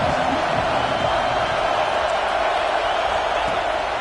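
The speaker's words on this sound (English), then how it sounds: "This crowd ready to make its presence known." A college football stadium crowd at an Ohio State versus Penn State game makes a dense, continuous roar of cheering at a steady loud level, with commentary running over it.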